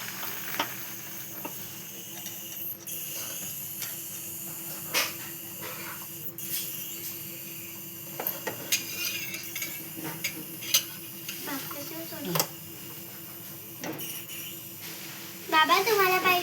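A young child stirs Maggi noodles in a pan at the stove, with scattered metallic clinks and scrapes of the spoon over a faint background hiss while voices talk nearby.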